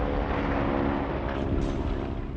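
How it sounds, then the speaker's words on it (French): Several air force bombers taking off together, a broad, steady roar of engines that holds at an even loudness throughout, with no voices. "11 bombardiers de l'armée de l'air décollent"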